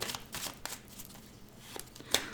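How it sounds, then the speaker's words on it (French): A deck of tarot cards is reshuffled by hand: a run of quick, close papery riffles and flicks, ending in a sharper slap near the end, with no voice over it. "Je remélange."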